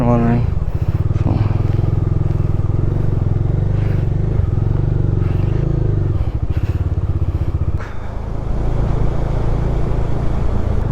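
A motorcycle on the ride from Turtuk toward Leh in Ladakh hums steadily under way, its engine drone loud and close throughout, with wind rushing over it and a slight dip near the end.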